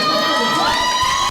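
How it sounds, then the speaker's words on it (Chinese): Fans at Taoyuan airport scream and cheer loudly for the departing Chinese Taipei baseball team, a dense, continuous crowd roar with high-pitched shrieks throughout. "球迷的尖叫声快要喊破桃园机场的屋顶"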